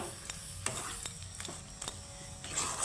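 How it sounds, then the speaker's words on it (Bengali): Grated boiled potato being stirred into cooked semolina in a pan, with a steady scraping and stirring rhythm over a soft sizzle, several distinct strokes close up and no talking. "ভালোভাবে মিক্স করে নিতে হবে আমার সুজির সাথে সুন্দর করে আমি আলুটা মিক্স করে নিতে হবে"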